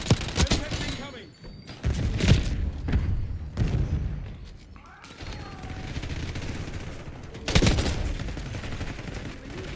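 Semtex grenade explosion and gunfire in Call of Duty Black Ops 6, sharp bursts of rapid shots separated by pauses, one heavier blast near the middle and a loud final burst, with voices talking underneath.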